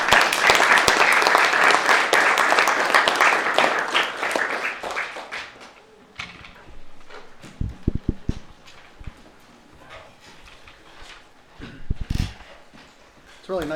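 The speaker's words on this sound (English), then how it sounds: "Can we give them a round of applause?" Audience applause for high school students at a meeting: a loud burst of many hands clapping that fades out after about six seconds, followed by quieter room noise, bumps and scattered sounds.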